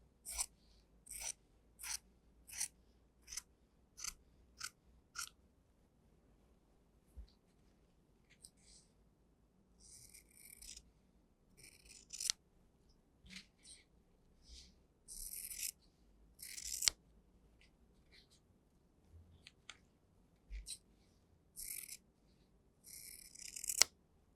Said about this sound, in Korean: 원단이 2장이기 때문에 바닥에다가 대고 오리는 게 안정적일 수 있어요